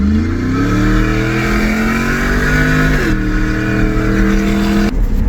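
A cammed Ram 1500 pickup's engine pulls hard under acceleration, its lumpy exhaust note climbing steadily before dropping at two quick, crisp gear changes, loud and close with no talking.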